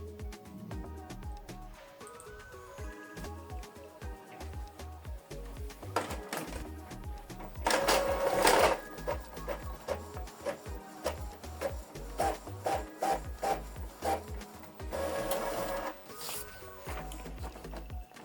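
An Epson ET-4800 inkjet printer runs a test page, whirring and clicking as its mechanism feeds paper and moves the print head, with louder bursts of carriage motion, up close and with no talk.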